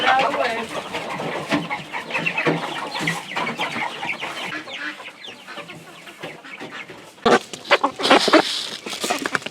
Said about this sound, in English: Let's see if the chickens will come running to me.